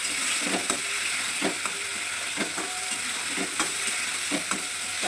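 Puti fish being stirred in a frying pan for a sour fish dish, with a steady sizzle of oil and repeated scraping strokes of a spatula at a regular pace, close up and without any talking.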